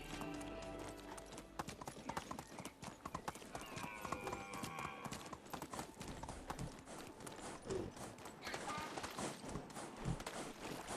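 Donkey hooves clip-clopping in the medieval village game Medieval Dynasty, a steady run of close, rhythmic hoof knocks over a continuous game ambience with music-like tones.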